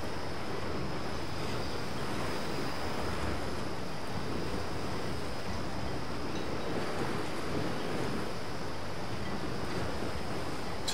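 Ocean waves in the sailing game Virtual Skipper 5 during a Melges Cup race make a steady, hissing wash mixed with wind that lasts throughout, with no talking.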